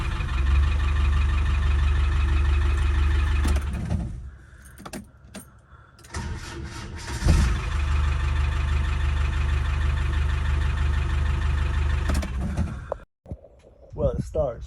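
A 27-year-old Land Rover Defender 300tdi diesel, restored and starting poorly, idling loudly up close with a low steady rumble that drops out briefly twice, with keys jangling and a person speaking over it.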